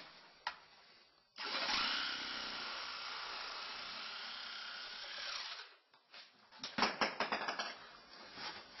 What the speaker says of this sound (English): we're going to transfer it to this piece of pipe and cut it